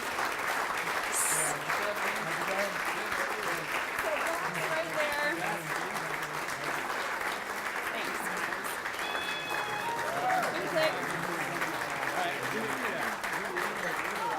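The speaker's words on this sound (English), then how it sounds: "you can applaud them in" An audience at a parks and land management awards event applauds field instructors walking to the stage; sustained clapping runs throughout with crowd noise and some voices underneath, plus a few faint whistles.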